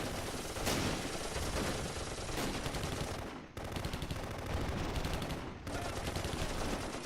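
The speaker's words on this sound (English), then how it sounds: "We'll get this machine gun team to start engaging" Machine gun fire in the World War II strategy game Close Combat, Kharkov battle of Belgorod: dense, continuous rattling bursts of automatic gunfire with brief pauses, loud and close.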